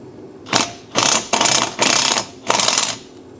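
Socket wrench ratcheting on a bolt of a Chevy Sonic, five quick bursts of loud clicking pawl rattle with short pauses between, close and alone.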